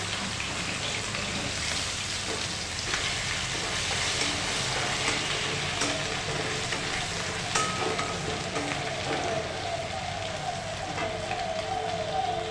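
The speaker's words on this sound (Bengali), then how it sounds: "এবার ওই একই তেলের মধ্যে দিয়ে দিচ্ছি আমরা কিছুটা পাঁচফোড়ন, একটি চেরা কাঁচা লঙ্কা, গ্রেট করে রাখা আদাটা" Panch phoron, a slit green chili and grated ginger frying in hot oil, giving a continuous close sizzle and crackle that stays even and steady throughout.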